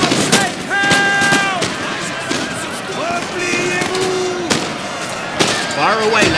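Musket volleys from infantry crack and pop repeatedly in a Napoleon Total War battle in Spain, loud scattered shots over voiced battle cries and music, with someone speaking throughout.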